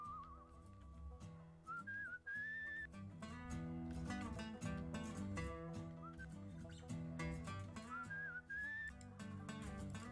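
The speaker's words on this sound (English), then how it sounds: "You didn't tell me how to match whistles." In the video game Where the Water Tastes like Wine, a whistled tune rises in short, wavering phrases three times, set against steady plucked guitar-like music with light percussive clicks.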